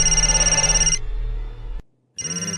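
A telephone rings loudly and close, a steady electronic ringing tone that shifts pitch partway, cuts out for a short pause, then resumes, with no voices.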